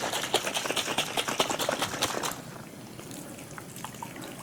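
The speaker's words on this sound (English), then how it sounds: "So that water comes out" Water dumped out of a garden sprayer tank used for mosquito spraying, splashing in rapid uneven gushes for about two seconds before trailing off to a faint dribble.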